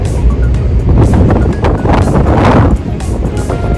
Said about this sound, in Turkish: Çok rüzgar var.